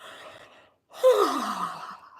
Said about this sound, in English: I yawn at night, do you?